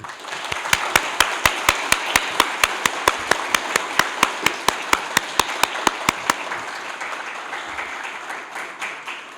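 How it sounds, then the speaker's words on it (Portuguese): At the close of a Linux community event in Pelotas, the audience claps in a strong, perfectly regular unison beat of about twenty sharp claps, which then dissolves into looser scattered applause and crowd noise. "Palmas para todos"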